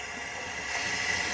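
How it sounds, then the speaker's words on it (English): Shop compressed air blowing through a nozzle held in a car's coolant tank opening with a towel over it. It sounds like a steady, close, broadband hiss that holds even and swells slightly toward the end. "I have my shop air. I'm going to put the nozzle in, cover the rest with a towel."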